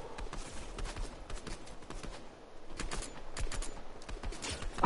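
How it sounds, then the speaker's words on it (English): Shooter video game gunfire: a scatter of sharp shots and bursts crackles through a busy, noisy game mix, fairly steady across the whole stretch with no voices over it. "Someone's shooting at me!"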